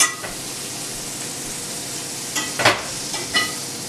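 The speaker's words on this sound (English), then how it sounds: "Ooh, you hear that sizzle? That means the pan is nice and hot." Butter sizzles steadily in a hot pan while making French toast, a constant crackling hiss with a few sharper spits and scrapes near the end, no voices.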